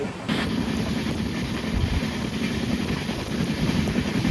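Steady broadband rumble and rattle heard from inside a moving passenger train in South India, heading toward Tiruchirappalli in light rain, constant and fairly loud with no voices.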